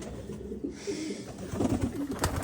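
A Bombai pigeon on a pigeon farm gives soft, low, throaty coos close by, a short call followed by a longer rolling one, with faint rustling around it.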